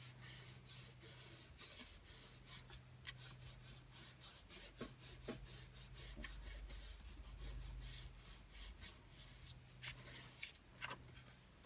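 Paper pressed and rubbed down by hand onto a background stamp, a papercraft stamping job: steady dry scratchy rubbing strokes in quick repeated bursts, close and fairly quiet, with no talking.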